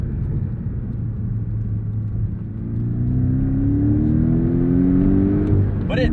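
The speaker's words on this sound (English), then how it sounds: "Great throttle response, even from a turbocharged four cylinder." A 2018 Porsche 718 Cayman GTS turbocharged four-cylinder engine revs up, its pitch climbing steadily as it accelerates, with a whirring turbo tone layered over the low rumble.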